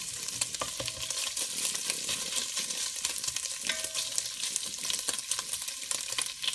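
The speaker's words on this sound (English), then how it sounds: "we're going to use that grease to brown our meat up a little bit" Meat browns in hot grease in a pan, a steady close sizzle and crackle with occasional stirring scrapes, loud and continuous with no talk.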